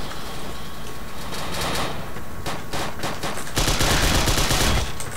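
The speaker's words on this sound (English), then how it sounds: "The enemy is shooting at you." Enemy gunfire in the World War II dinosaur shooter game Dino D-Day, loud continuous rattling shots layered over a dense roar of battle noise, intensifying toward the end with no talking.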